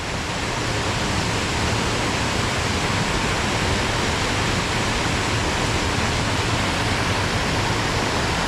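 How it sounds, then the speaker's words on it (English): Careyburn waterfall pours down steadily in a loud, unbroken rush of water that fills the whole stretch without pause, close and alone. "just listen to the waterfalls coming down"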